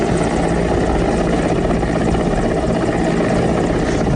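An Indian Air Force Mi-17 helicopter thunders close by in heavy rain during a flood, its rotor chop and engine roar steady and loud throughout, with no voices.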